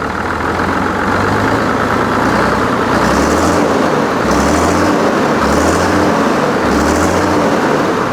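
A Hino JO8E truck engine, 260 horsepower, revved in repeated bursts: a loud, constant diesel roar that surges and eases about four times at a steady rhythm, with no one speaking.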